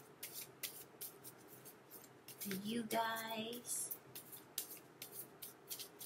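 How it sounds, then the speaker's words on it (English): A deck of tarot cards being shuffled by hand gives a dry, quick, repeated riffling and slapping close by, broken by brief voice and intonation partway through. "I'm gonna shuffle a little bit more"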